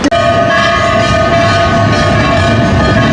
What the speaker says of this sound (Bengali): একদম এক্স্যাক্টলি সঠিক টাইমে 5টা 55তেই ছেড়ে দিল পুরী 822 হামসাফার এক্সপ্রেস